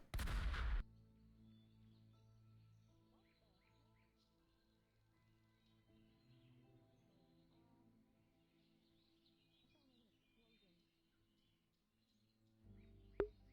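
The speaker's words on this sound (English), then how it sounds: "I'm gonna guess that was an accidental fire off of a cannon somewhere." Cannon fire in the virtual world of VRChat lands as a sudden booming burst at the start. Near-silent game ambience follows, then another short thump right at the end.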